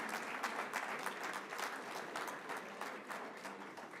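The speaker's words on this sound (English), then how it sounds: "Let's give them another round of applause." Steady audience applause fills a recognition ceremony for school principals, a dense, continuous patter of many hands clapping at moderate volume with no break and no talk over it.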